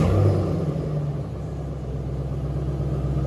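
A 2007 Ford Mustang GT with a 4.6L V8 and straight-pipe dual exhaust after a muffler delete gives a loud, deep, steady rumble at idle, with one heavier swell at the start.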